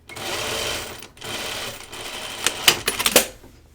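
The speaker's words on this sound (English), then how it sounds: "now it's ready to sew the rest of it as a French seam" A sewing machine hums in steady stitching runs with short pauses, then gives a few sharp clicks and rattles, close and moderately loud, while sewing a French seam on a caftan garment.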